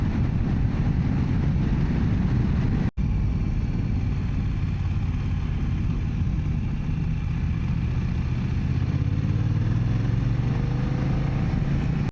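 A BMW F900XR motorcycle riding uphill with a group of bikes, a steady loud engine drone and wind rush heard from the rider's position, with a brief dropout near the start.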